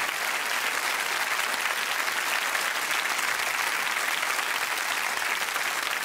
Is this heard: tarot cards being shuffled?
no